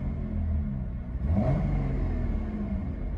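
A 2016 Cadillac ATS-V in touring mode with its exhaust valves closed: a deep, muted engine rumble with a brief rise in revs, steady and fairly subdued, no talking.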